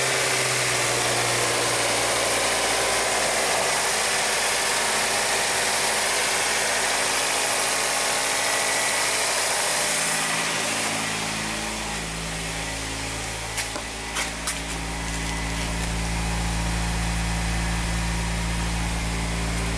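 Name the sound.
Hyundai car engine idling, running rich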